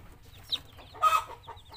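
A broody hen with freshly hatched chicks clucks a few times, two short distinct calls over a quiet farmyard background, close and clear, with no speech.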